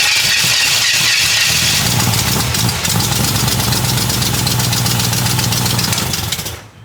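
A 1957 Chevrolet Bel Air under restoration cranks and catches, then settles into a steady, loud, close idle with a rough, slightly uneven rumble that runs unbroken before cutting off at the end.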